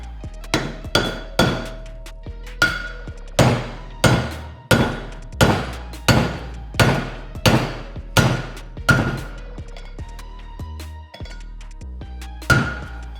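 A bearing race is hammered into a utility trailer wheel hub with a driver tool: about a dozen sharp, ringing metallic blows at a steady rhythm, close and loud, with a brief pause near the end.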